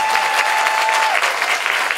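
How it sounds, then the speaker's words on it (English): Film festival audience applauding Sean Baker, loud continuous clapping from a crowd filling the whole stretch, close and even. "another round of applause for Sean Baker"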